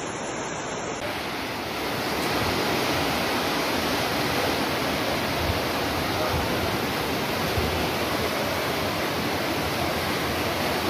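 Floodwater in Haiti rushing steadily with a dense, roaring wash that holds constant for the whole stretch, loud and close, with no voices.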